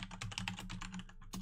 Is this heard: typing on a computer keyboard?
yes